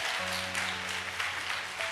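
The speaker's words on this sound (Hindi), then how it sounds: "जोरदार ताली बजा दो, जोरदार ताली प्रभु की महिमा के लिए" A congregation at a church service claps together for the Lord's glory, a broad steady wash of applause heard over a sustained low organ-like hum.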